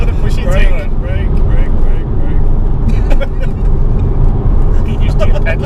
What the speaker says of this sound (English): Yeah, floor it down, just foot to the floor.